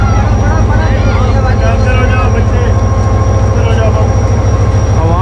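The Marvi Express passenger train departing, a loud, steady low rumble and droning engine with a high tonal whine, heard close with a voice talking over it.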